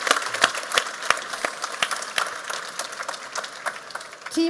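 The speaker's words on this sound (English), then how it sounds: "There's applause for all of you." An audience at Krones Forum during drinktec applauds, a dense close burst of many hands clapping that holds steady before easing slightly at the end.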